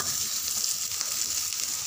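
Fennel seeds frying in hot oil as a start to a mutton gravy, a loud, dense, continuous crackling sizzle, close up and steady throughout, with no speech.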